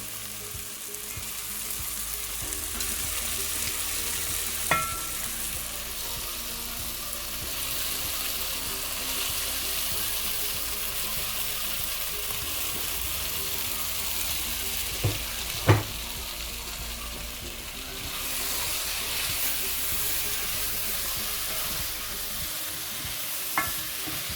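Crab cooking in a tomato gravy simmers with a steady, even sizzle for the whole stretch, broken by a few sharp clacks of utensils against the pan, with no voices.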